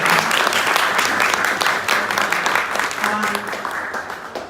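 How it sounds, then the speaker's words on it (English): A conference audience at a Zimbabwe UK business chamber event breaks into full, dense applause, a loud sustained wash of clapping that slowly fades toward the end. "you did deserve an applaud"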